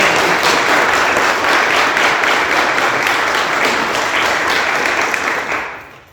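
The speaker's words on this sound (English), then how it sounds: "Let's give a round of applause for the Honorable Judge Dwayne Woodruff." Audience applause at a Pittsburgh proclamation event for Take Your Father to School Day, a dense, steady wash of clapping from a crowd that holds strong throughout and tapers off in the final second.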